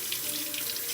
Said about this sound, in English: Just wash them with cold water.